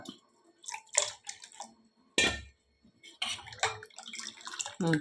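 Thinning rava dosa batter with water: close, irregular splashes and sloshing pours, with light clinks of a utensil against the bowl between bursts.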